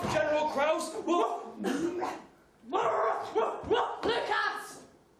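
A human voice imitates a dog barking, letting out rapid bursts of loud, close woofs and ruffs in two clusters separated by a brief pause.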